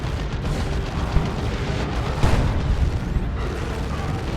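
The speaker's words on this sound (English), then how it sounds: "Oh, and a Wailing Doom, that's got to be the end of that Fire Prism" A Wailing Doom weapon strikes a Fire Prism tank in Dawn of War II: Retribution, a dense rumbling blast with a swelling burst midway amid continuous battle noise, no talk.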